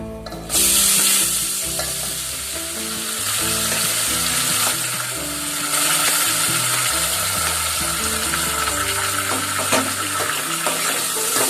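Chopped onions with bay leaves sizzle in hot oil in a pan while being cooked for pav bhaji, a steady close frying hiss broken by occasional stirring clinks and scrapes, with no one speaking.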